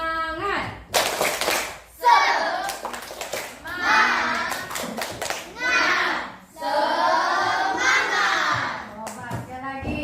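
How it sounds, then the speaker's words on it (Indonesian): Children in a classroom chant and clap together in bursts of a rhythmic cheer, loud shouted voices alternating with sharp group claps, a teacher's voice leading between rounds. "yuk kita tepuk semangat dulu ya"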